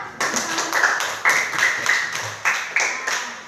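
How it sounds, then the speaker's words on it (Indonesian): Schoolchildren in a fourth-grade Islamic religious education class clap together in a short burst, with the claps coming in loose rhythmic waves close by. "Tepuk tangan buat kita semua."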